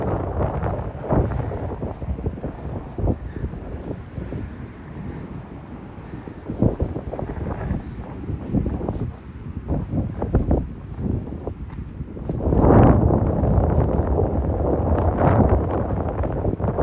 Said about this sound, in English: Yeah, sorry about the wind noise, Beverly.